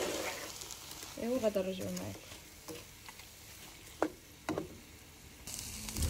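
Peppers and onions frying in a pan for a savory pie filling: a soft sizzle with occasional stirring scrapes and clicks, fairly quiet, while someone speaks briefly over it.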